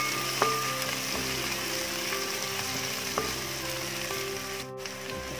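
Small onions sautéing in hot coconut oil for Kerala-style beef chukka, a continuous close sizzle with a few light spoon clicks against the pan.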